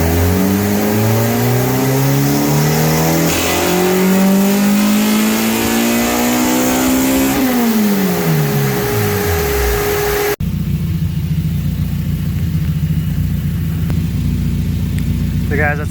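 A Honda B20 VTEC engine on a dyno revs hard through a long, loud climbing pull that rises in pitch, then cuts off abruptly and drops to a lower, rougher idle-like rumble.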